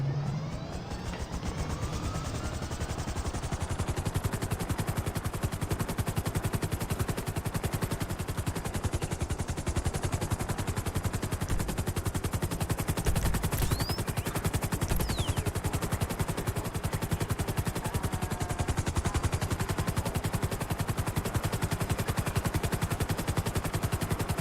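Gunfire in a dense, continuous rapid burst that keeps up without break, loud and close, with a rumbling mix that sounds like a game or action scene and no voices over it.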